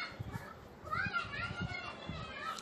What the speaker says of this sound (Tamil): பின்னாடி கொஞ்சம் நாய்ஸ் எல்லாம் கேட்கும். பக்கத்து வீட்டில் நிறைய குழந்தைங்கள்லாம் இருக்காங்க.